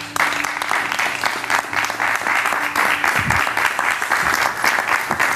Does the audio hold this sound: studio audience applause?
yes